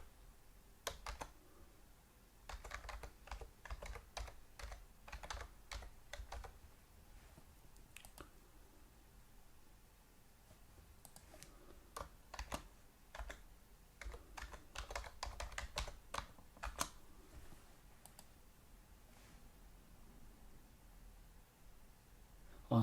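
Quiet, close keyboard typing comes in bursts of quick clicking keystrokes, with short pauses between runs, as a username and password are entered.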